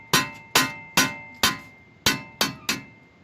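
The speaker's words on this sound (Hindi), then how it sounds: "यहाँ पे पेचकस की मदद से हल्का हल्का मारो तो ये ऊपर आ जाएगी यहाँ से" A screwdriver taps on a Jeep front wheel bearing, seven sharp metallic knocks at a fairly even pace with a short ringing decay after each, close and clear with no talk.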